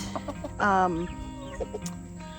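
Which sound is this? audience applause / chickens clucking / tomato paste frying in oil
chickens clucking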